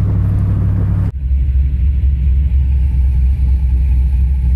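A 1967 muscle truck fitted with Holley Sniper EFI rumbles loudly as it drives, its deep engine note shifting abruptly after an opening second of throatier revving, then holding a steady low growl.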